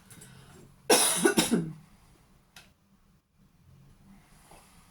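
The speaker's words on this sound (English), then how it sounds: "I'm sorry for coughing all over you." A single burst of harsh coughing, a few quick hacks in a row, close and loud against a quiet background.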